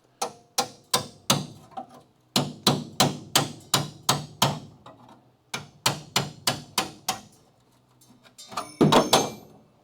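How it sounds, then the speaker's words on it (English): Repeated sharp metallic strikes as a chisel is hammered into the sheet-metal body of a Charger crew-cab car under restoration, loud and close, coming in quick bursts of evenly spaced blows with short pauses between, ending in a denser scraping clatter. "now let's hit it with the chisel just to see"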